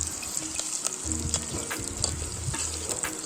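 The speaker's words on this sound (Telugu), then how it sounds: "ఈ విధంగా అడగంటకుండా గంటతో కలుపుతూ ఉండాలి" Spiced fish curry with cinnamon and cloves simmers and sizzles in a pan while a spoon stirs it steadily, close and continuous with small scraping clinks and a low bubbling underneath.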